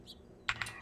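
Two or three quick, clear keystrokes on a light, quiet keyboard during a typing test, heard alone and close.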